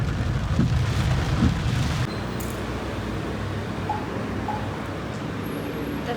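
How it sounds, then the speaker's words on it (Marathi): Heavy monsoon downpour at Ganpatipule on the coast, a steady, dense roar of rain hitting surfaces nearby, slightly louder for the first two seconds before settling into an even wash with no voices. "अशा प्रकारे मुसळधार पाऊस आहे"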